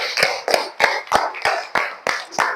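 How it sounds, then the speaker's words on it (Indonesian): Applause for a student group in a classroom: a few hands clapping in a slow, steady rhythm of about eight claps, close and fairly loud, with no other sound in between. "Oke, beri tepuk tangan untuk kelompok A."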